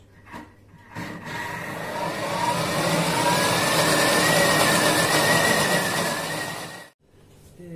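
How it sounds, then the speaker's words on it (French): A Thermomix food processor at speed 10 blends cake batter of fine semolina, flour and ground almonds, giving a loud whirring roar that rises in pitch for about six seconds before cutting off abruptly. "le tout va être mixé à la vitesse 10"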